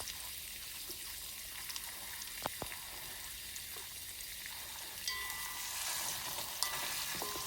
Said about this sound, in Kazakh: Енді етті саламын үстіне. Және де жарты сағатқа жуық жақсылап қуырамын.